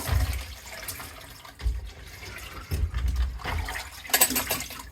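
A plaster trap is dunked into a bucket of water and swished around, producing irregular sloshing and splashing with a couple of heavier surges, close by and without talking.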